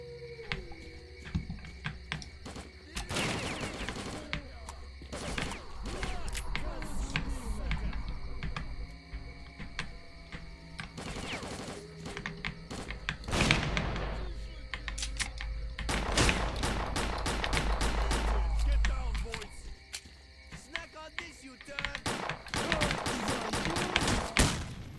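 Hunting rifle shots and grenade blasts in the shooter game S.T.A.L.K.E.R. Clear Sky: scattered sharp bangs and heavier booms in bursts across the firefight, with a low rumble and speech.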